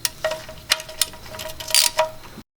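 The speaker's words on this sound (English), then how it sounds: "Then you can use your wrench to tighten it on up." A wrench tightening the oil drain plug bolt back into an Infiniti G35/350Z oil pan during an oil change: a few short metallic ratcheting clicks and taps at irregular intervals, close and moderately loud, with no talk.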